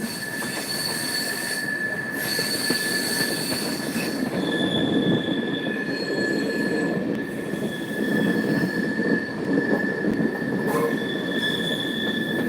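A train on the railway between Prayagraj and Bihar, heard from inside, with steady loud rumble of wheels on rails, high squealing tones and occasional clatter running continuously throughout.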